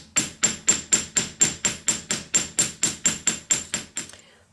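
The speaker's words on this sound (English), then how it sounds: "I'm going to hammer texture it" A ball peen hammer with its back ground down textures a sterling silver sheet. About sixteen sharp metallic taps land close and loud at a steady, even rhythm, then stop.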